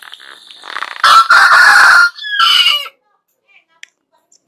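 Hens clucking loudly in a coop where they are laying eggs, with a burst of close, dense squawking and clucking that fades to silence, broken only by a few faint clicks.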